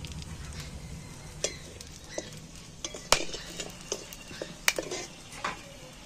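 Cardamom pods and cloves fry in hot oil in a kitchen, a soft sizzle beneath scattered utensil clinks and scraping stirs against the pan, fairly quiet and close.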